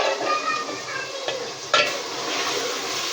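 Minced meat fries in a pan with a soft, steady sizzle as a spoon scrapes and clinks against the metal, one sharper knock standing out midway, close and fairly quiet with no talking.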